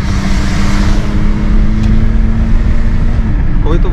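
A car with a six-cylinder prechamber turbodiesel engine hums along in a steady, loud, low drone heard from inside the cabin, holding an even pitch with no distinct revving.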